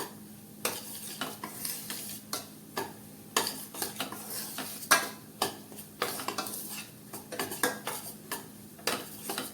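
Spoon stirring a sukhdi mixture with coconut powder in a pan, repeated scraping strokes in an uneven rhythm over a faint sizzle, close and moderately loud, no voices.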